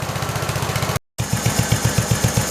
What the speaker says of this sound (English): Idled the motor down a little bit. I'd say it runs a lot happier right where it's at now.